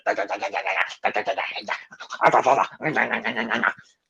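A voice imitates a wrestler's snarling and growling backstage, with a string of rough, guttural growls in several close, loud bursts separated by short pauses.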